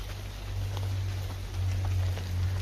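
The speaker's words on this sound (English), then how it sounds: "Still a lot of rain, but we have trees." Steady rain falls on trees in a forest, a dense, even patter with a low rumble beneath, close and continuous, with no voices.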